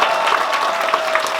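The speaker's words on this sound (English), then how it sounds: "Give her mom a round of applause." Steady applause from a live audience at a gaming convention, a dense wash of clapping filling the whole short moment.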